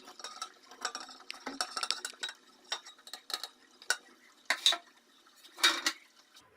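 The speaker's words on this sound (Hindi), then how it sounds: "अब इसी ऑयल में जो चूल्हे पर पड़ा है इसमें मैं ये प्याज डालूँगी, प्याज ब्राउन करूँगी।" Onions go into hot oil in a pan on a stove, with repeated clanks and scrapes of a metal spoon against the pan in uneven bursts, close and fairly loud, and a faint soft sizzle between strikes.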